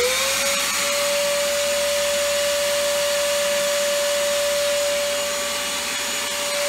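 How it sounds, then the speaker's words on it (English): A vacuum cleaner runs steadily in an RV trailer under construction, a loud, continuous motor whine with a strong tonal hum that rises briefly in pitch as it spins up. "when I turn on the vacuum cleaner,"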